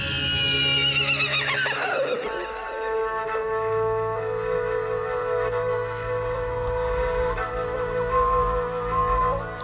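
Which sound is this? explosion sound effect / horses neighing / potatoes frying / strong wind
horses neighing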